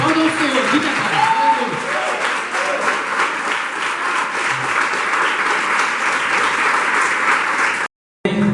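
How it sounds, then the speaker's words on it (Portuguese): A church youth service congregation applauds steadily and loudly for several seconds, with voices mixed into the clapping, before a sudden cut to silence near the end. "Aplaudam o Senhor"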